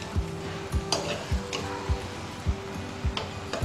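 Shark puttu stirred and fried in a pan, a spatula scraping the pan about every 0.6 seconds in a steady rhythm over a soft, constant sizzle, close and moderately loud with no talk.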